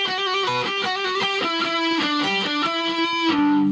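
A distorted electric guitar picks out a bright melody riff, notes moving in steady rhythm with sustained bends, loud and close with no voices.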